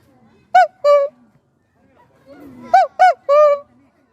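A man imitates a cuckoo call with his voice, two hooted notes, a short pause with a faint low murmur, then a second quick run of hooted notes, loud and close.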